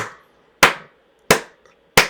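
One person claps three times, slow and evenly spaced. Each clap is sharp, close and isolated, with silence between.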